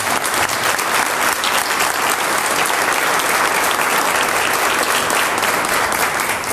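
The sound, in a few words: applause at a church service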